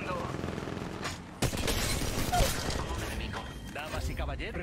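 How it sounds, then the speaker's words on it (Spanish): Rapid gunfire bursts from the mobile battle royale game Apex Legends Mobile, loud and dense with mechanical clatter, starting in sharp volleys around the midpoint while a voice speaks over the action. "Disparando."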